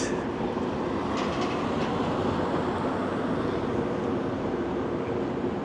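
A subway train rumbles at King station in Toronto's nightclub district, a steady, loud, unbroken roar of rolling cars heard without any talk.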